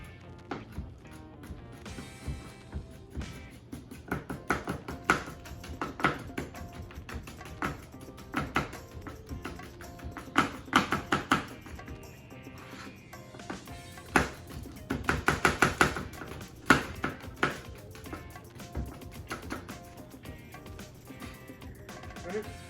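Knife slicing bell peppers on a cutting board while preparing carne guisada, a sequence of sharp, close taps and thwacks in irregular bursts, with occasional pauses between cuts.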